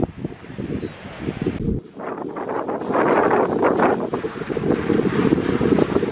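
Gusty wind buffets the microphone while surf rolls and washes in the background on a beach in The Hague, a steady roar with no voices.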